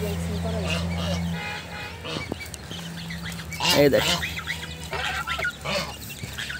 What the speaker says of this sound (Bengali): দেখেন এখানে আমার সবগুলো হাঁস আছে